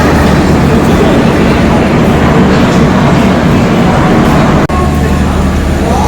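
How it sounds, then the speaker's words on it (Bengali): The Sealdah–Puri Duronto Express (22201) rolls into a platform with a loud, steady rail rumble and clatter that fills the whole stretch, briefly dipping near the end. "এখনো সবে ঢুকলো ট্রেন"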